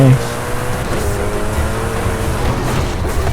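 A Koenigsegg Jesko in Forza Horizon 5 braking hard, with loud engine drone and tyre noise under a voice talking.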